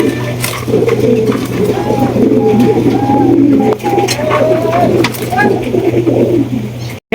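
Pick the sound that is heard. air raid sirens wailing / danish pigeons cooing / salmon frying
danish pigeons cooing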